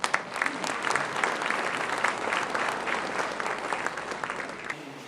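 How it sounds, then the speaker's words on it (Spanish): Sustained audience applause fills a university hall after a call to welcome an author presenting his book on Mexico's state of emergency; steady dense clapping of many hands continues for about five seconds before trailing off at the end. "Un aplauso para él,"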